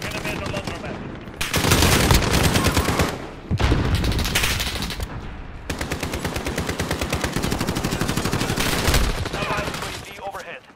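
Rapid automatic gunfire from Super Killchain, a video game, in loud dense bursts that run almost the whole time with brief gaps, near and dominant, with a voice now and then underneath.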